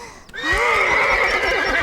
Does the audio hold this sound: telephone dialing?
no